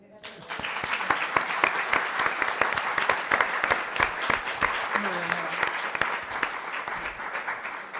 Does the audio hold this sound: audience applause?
yes